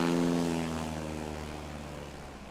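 A STOL airplane's propeller engine drones loudly and steadily at a live backcountry STOL competition in Pinedale, Wyoming, its pitch shifting as the throttle changes. The engine sounds close, with no talk over it.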